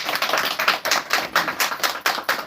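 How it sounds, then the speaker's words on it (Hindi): An audience claps at a product launch, a brisk run of sharp, evenly spaced hand claps, fairly loud and close, with no voices over it. "इस बात पे ताली होनी चाहिए।"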